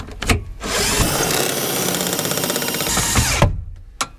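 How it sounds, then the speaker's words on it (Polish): A powerful cordless drill driver whirs at high speed for about two and a half seconds, loud and close, framed by brief knocks and clatter before and after during work on a camping trailer. "Oj, przepraszam, Kamil, ale mocna ta wkrętarka"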